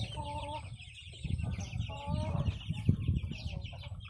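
Pullets, hens and young stags cluck in a farmyard, with several overlapping bird calls and soft repeated clucks close by, plus a continuous background chatter of other birds.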